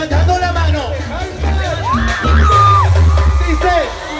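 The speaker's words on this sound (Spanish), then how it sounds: "Quiero que se escuche el grito." A crowd at a beauty queen election yells and whoops loudly, with cheering swelling over an announcer's amplified voice and music in a busy, echoing venue.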